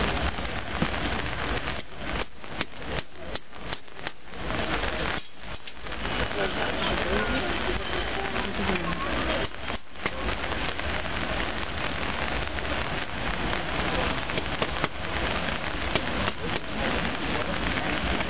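Rain pours steadily at an outdoor forge, a dense, constant hiss of drops on surfaces with occasional sharper crackles, fairly quiet and unbroken with no voices.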